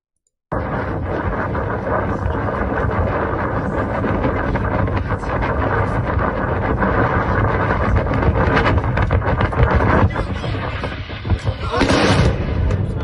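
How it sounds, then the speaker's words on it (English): Russian missile strikes hitting a thermal power plant in Kyiv in the morning, heard as a steady, dense roar of booms and blasts with sharp cracks, loud and continuous throughout after a brief silent start. "Footage of Russian missile strikes on thermal power plant in Kyiv this morning"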